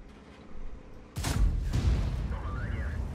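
A gunshot in a video game, a sudden sharp boom after a quiet stretch, followed by a second blast and a rumbling tail with faint whistling game effects.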